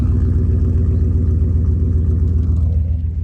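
A 1992 Itasca Spirit camper engine runs through a Flowmaster Flow FX exhaust with a 4-inch slash tip, a loud, deep, throbbing low rumble held steady before easing slightly at the end.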